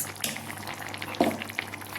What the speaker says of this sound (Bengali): এখানে সোয়াবিনের তরকারি ফুটছে, ফুটে নিলে নামিয়ে নেব